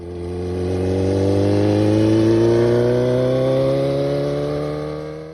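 A Honda CBR 1000RR sport motorcycle engine revs up smoothly and steadily, pitch climbing as it builds and then easing slightly, close and clear with no voices.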